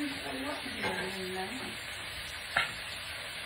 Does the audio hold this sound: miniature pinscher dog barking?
no